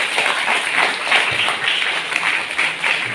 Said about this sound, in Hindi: तो कृपया जोरदार ताली स्वागत करिए हमारे डीएम सर के लिए